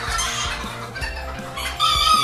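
Hens at a poultry breeding ranch cluck and cackle steadily at close range, several birds overlapping in a busy, continuous chatter with no talking.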